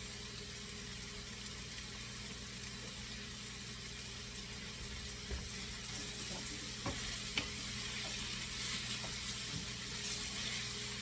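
Rice stirred through a hot paella pan for a monkfish, Swiss chard and sesame seed paella gives a faint, steady sizzle with a few soft scrapes and taps, over a low constant hum.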